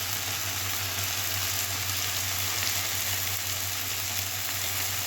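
Food sizzling in a pan, a steady, even hiss with no breaks and no distinct stirring strokes, close and moderately loud, with a low hum underneath.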